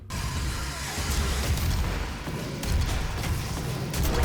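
Guns firing in the video game DOOM, a dense, steady barrage of booming shots and explosions packed into a thick, loud wall of sound with no clear gaps.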